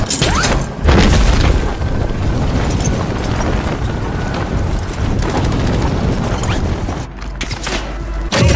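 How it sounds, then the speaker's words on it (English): Mortar strike explosions land in the Call of Duty Warzone 3 video game, in Urzikstan. Loud, booming blasts and rumbling roll on continuously at close range, with heavy low-end impacts near the start and end. "Position marked. Copy. Mortar strike inbound now."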